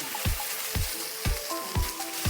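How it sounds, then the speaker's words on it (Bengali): Chicken with browned onions fries in a pan, a steady sizzle broken by regular heavy stirring strokes about every half second, close and fairly loud. "লাল হয়ে গেছে আমাদের পেঁয়াজ লাল হওয়ার পরে আমরা চিকেন দেব। চিকেনটা দিয়ে নাড়াচাড়া ভালো করে নেব।"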